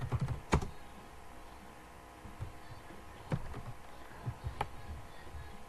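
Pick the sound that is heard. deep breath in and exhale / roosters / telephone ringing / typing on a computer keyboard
typing on a computer keyboard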